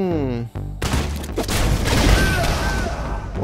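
Gunfire in the action game Katana ZERO, a sudden loud burst of rapid shots and booms after a brief tonal sound, dense and close, continuing as a noisy barrage.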